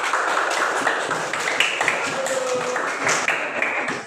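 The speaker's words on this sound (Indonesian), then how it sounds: "Oke, beri tepuk tangan untuk kelompok 1." A third-grade class claps for group 1, a lively patter of small hands that runs steadily throughout, with faint voices mixed in.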